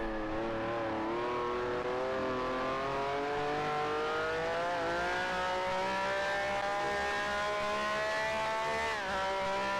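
A race car on the sim racing track brakes into the Parabolica, its engine note falling steadily as it downshifts, then briefly dipping near the end. It is loud and continuous, and no one speaks.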